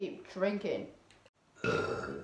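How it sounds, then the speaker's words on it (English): A short burp breaks into casual speech, with people talking just before and after it. "You just burped by accident."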